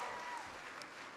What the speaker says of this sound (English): Can everybody give Emilio a big round of applause for that great introduction?